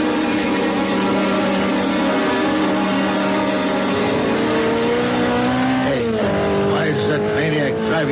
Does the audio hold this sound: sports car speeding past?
yes